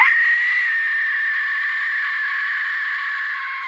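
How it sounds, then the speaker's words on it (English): An Aztec death whistle gives a sustained, shrill, breathy scream that holds steady and loud for several seconds, with no voices present. "The Aztec Death Whistle."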